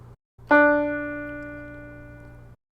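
A single piano note, the D just above middle C, is struck once and rings out cleanly, fading slowly over about two seconds against a faint low background hum.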